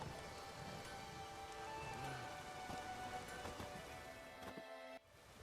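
Steady rain falling in The Witcher 3 game, a faint continuous hiss of drops with soft scattered patters and a few thuds, cutting off abruptly near the end.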